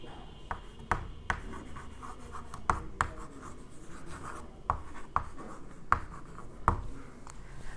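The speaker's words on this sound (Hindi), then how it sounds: "यही मैं लिख दे रहा हूं।" Chalk or marker taps and scratches on a board during a physics lecture on simple harmonic motion, in irregular short strokes and clicks close by, with no talk over them.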